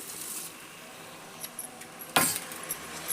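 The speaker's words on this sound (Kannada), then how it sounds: "ಈಗ ಅಕ್ಕಿ ಹಾಕ್ತೇನೆ ನೋಡ್ರಿ ನಾನು" Washed rice pours into a pan of tempering for cabbage pulao, giving a quiet backdrop of light pattering and small clinks, then one sharp rattling burst partway through and a few scattered clicks.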